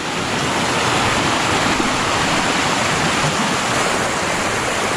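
Clear water rushes steadily through a natural rock pool in a stream in the countryside near Ambavali, Mandangad, making a loud, continuous, close wash with no voices.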